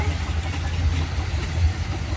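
Gladiator, a compound steam engine at the Torbay steam rally, chugs past with a steady low rumbling drone that swells slightly as it comes round.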